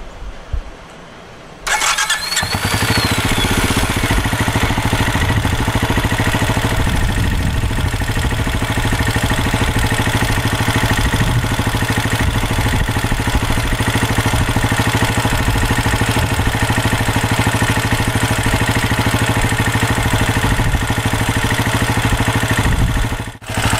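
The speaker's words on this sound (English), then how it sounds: "Start the engine." A Benelli Imperiale 400 motorcycle engine cranks and catches after a couple of seconds, then settles into a steady, loud idle that runs on without a break.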